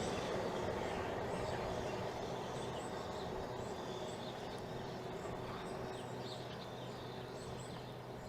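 Class 395 unit 395011 pulling into Rainham station on the Chatham Main Line, a steady broadband rumble of the train arriving, slowly easing in level, with birds chirping in the background.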